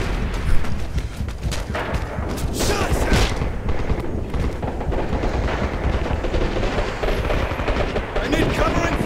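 Artillery and gunfire in the video game Red Orchestra 2, a loud, dense barrage of booms and rattling shots that runs unbroken throughout, with voices heard beneath it.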